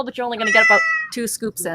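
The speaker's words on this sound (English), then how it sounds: "that was my phone. Yes, my phone meows to me when it rings." A phone ringtone meows like a cat, a few distinct meows in quick succession, close and loud, with a person speaking over the start.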